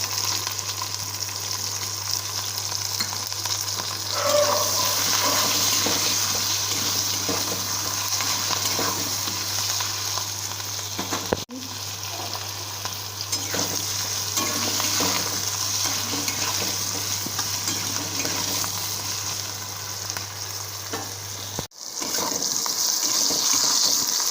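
Potato pieces frying in a pan for a Bengali eggplant and hilsa curry, a steady close sizzle with occasional stirring scrapes running continuously, with a low constant hum underneath and no talk.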